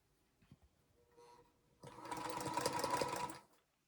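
A sewing machine stitching quilt charm pack squares: a few soft taps and faint whirring, then a close, steady motorized run of rapid stitching for about a second and a half that stops abruptly.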